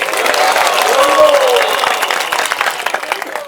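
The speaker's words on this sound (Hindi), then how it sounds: "सारे ताली बजाओ।" Audience claps together during a religious discourse on the Braj Mandal parikrama in Vrindavan, a dense burst of applause that gradually thins into scattered claps, with a speaker's voice rising faintly over it.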